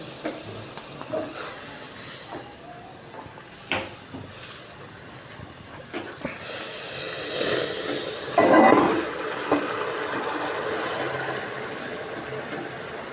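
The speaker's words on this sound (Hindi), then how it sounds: "तो अभी दाल को हमने डाल देना है, इधर कढ़ाई में डालेंगे दाल को।" Boiled chana dal tipped from a hot pot into sizzling masala in a kadhai, a burst of hissing sizzle after scattered clatter of utensils, then a steady fry continuing.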